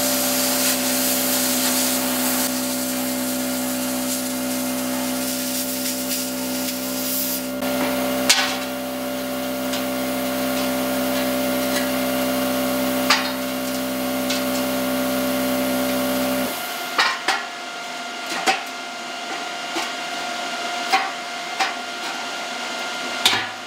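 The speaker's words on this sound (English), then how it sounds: "using a plasma cutter to cut something with" A plasma cutter cutting metal, a loud steady hissing rush with an underlying hum for most of the stretch, then stopping abruptly and giving way to quieter intermittent clanks and scrapes, with no talking.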